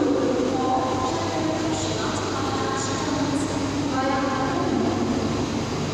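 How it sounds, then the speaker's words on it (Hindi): A Navi Mumbai local train at the station, a steady, continuous rumble of railcars with faint squeals and clatter, sustained at an even level throughout. "ट्रेन एकदम टाइमली अपने स्टेशन पे आके खड़ी हो चुकी है।"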